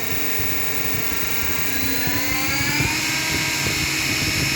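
An electric hang glider harness motor runs at full throttle with a loud, steady high-pitched whine and propeller buzz, holding constant and close with a slight rise in pitch.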